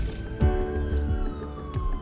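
A video game ambulance siren wails, sweeping steadily in pitch over a low rumble, fairly close and continuous, with a few dull thumps.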